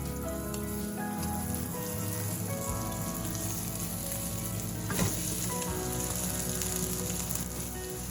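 Rice frying in vegetable oil in a pan for crab claw fried rice, a steady dense sizzle that runs unbroken and close throughout, with one brief sharper crackle midway; no voices.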